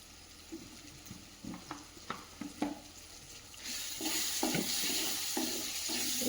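Turmeric and cumin powder are stirred into a frying pan, with soft scraping stir strokes first, then a rising, steady sizzle of frying spices, close up, with no talk.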